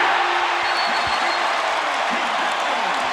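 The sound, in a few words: basketball arena crowd cheering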